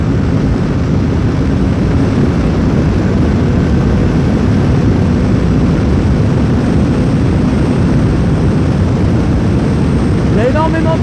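Strong wind roars and buffets a rider on a motorcycle, a loud, steady rumbling rush that stays continuous from start to finish and drowns out everything else.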